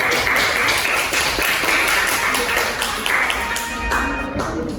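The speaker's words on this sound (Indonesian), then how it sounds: "beri tepuk tangan kepada Arum, Yuma, dan juga Naika" Students in a vocational high school classroom clap for three classmates, a busy patter of many hands with distinct sharp taps throughout, loud and close, and brief voices under it near the end.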